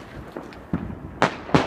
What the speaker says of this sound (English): Fireworks are so cool